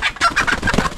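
Guinea fowl calling on a rural farm, a dense run of raspy, repeated cackling cries close by, loud and continuous through the moment with no speech.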